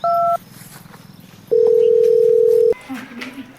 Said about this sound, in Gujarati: લે લઘરા કાકાને ફોન કરું.